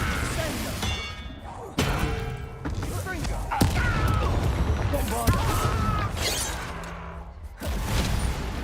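Confringo spell blasts in Hogwarts Legacy during a fight with a goblin, several sharp thuds and bursts scattered across the clip, mixed with whooshing magic effects and talk.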